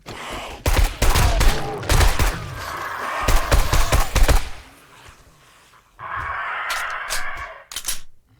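Horde night in 7 Days to Die: heavy, loud bursts of rapid gunfire at close range, broken by short pauses, with a quieter stretch of rumbling noise before a few final sharp shots.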